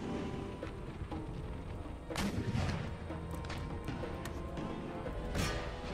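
Artillery and musket fire from an Empire: Total War battle: a steady, dense rumble of distant gunfire broken by several sharp, louder bangs and crashes.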